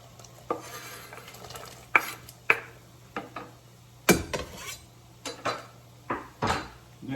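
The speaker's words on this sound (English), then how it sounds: "So we're gonna rake this celery over in there." Celery pieces scraped off a board into a pot of boiling water for chicken noodle soup, a series of close scraping knocks and clatters against the pot over a steady simmering hiss.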